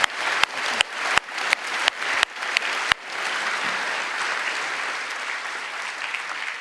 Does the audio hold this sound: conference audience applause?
yes